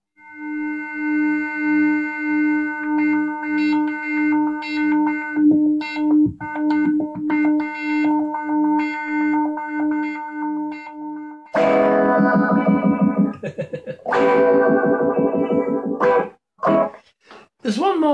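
A Korg MS-20 synthesizer with random voltage modulating its filter, playing a pulsing, repeated tone whose timbre shifts unpredictably, then harsher, denser distorted bursts in the later part, loud and alone.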